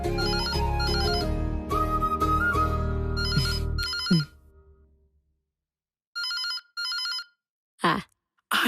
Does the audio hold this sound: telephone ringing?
yes